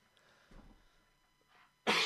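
A man with a cold gives one sharp, harsh cough, close and sudden, after a quiet stretch with faint rustles and breath.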